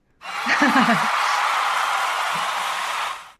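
A big crowd sound effect: a dense, steady roar of many voices lasting about three seconds, with a few laughs and chuckles near the start, then it cuts off abruptly.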